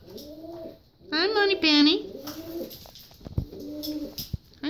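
A pet bird coos in a few low, throaty calls alongside a person talking softly to it, with a brighter, rising cooing phrase in the middle.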